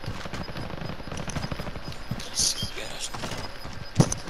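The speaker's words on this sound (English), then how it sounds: "they're shooting right in front of us" Video game gunfire in a battle royale match, scattered shots and sharp cracks under a steady game backdrop, with one louder report near the end.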